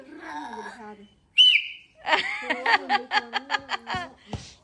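A person whistles close by at a family visit, one shrill rising note followed by a quick series of short repeated whistled bursts, with laughter and voices around it.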